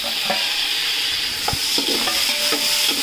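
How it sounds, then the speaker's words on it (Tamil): Chopped tomatoes sizzle and fry in a hot pan, with a steady hiss broken by a few scraping stirs of a spoon. "தக்காளியும் நல்லா வதக்கிடுங்க."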